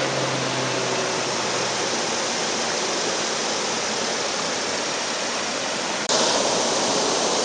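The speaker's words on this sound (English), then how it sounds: "So this waterfall at this water level is impressive." A waterfall on Pigeon Creek in Alabama at high summer water roars as a loud, steady, close wash of rushing noise that gets a little louder near the end.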